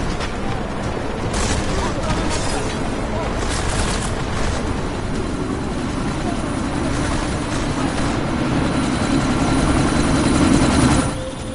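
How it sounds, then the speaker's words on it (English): A helicopter takes off in the video game Deus Ex: Mankind Divided, its engine and rotors making a loud, steady roar that swells slightly near the end. "That chopper's about to take off!"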